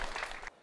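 A studio audience claps for two guests, a brief dense burst of applause that cuts off sharply after half a second, leaving faint room noise.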